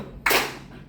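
A class of students claps once in unison, a single sharp burst of many hands that decays quickly into a faint room tail.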